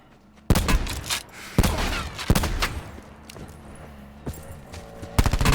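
Gunfire rings out in a Call of Duty Black Ops Blackout match as an Outlaw rifle fires at close range, with several loud sharp shots spaced irregularly over game background noise.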